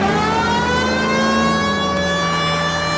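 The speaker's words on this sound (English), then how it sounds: "We've got a siren for a reason." A police car siren in the video game L.A. Noire wails steadily and loudly with sustained rising and falling tones over a rumbling engine, with no talking.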